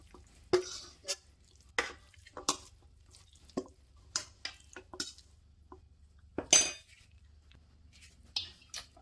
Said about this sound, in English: I'm stirring this, guys. It's they're all mixed in.